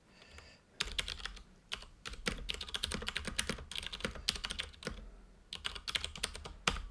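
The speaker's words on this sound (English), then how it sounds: "I'm going to type some stuff in it." Text is typed into the vi editor on a computer keyboard, with rapid, close, crisp key clicks in dense runs broken by brief pauses, alone without talk.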